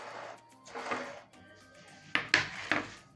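A metal baking tray lifted and handled in a home kitchen, giving a few sharp clanks and knocks close by toward the end, after some quieter shuffling, with no talk.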